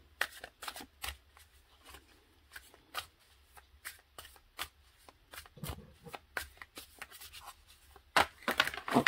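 Oracle cards being shuffled by hand, a steady run of crisp riffling snaps close to the microphone, quick and repeated, alone without talk.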